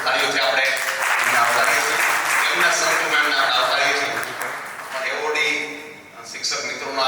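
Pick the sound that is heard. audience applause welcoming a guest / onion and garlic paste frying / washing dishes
audience applause welcoming a guest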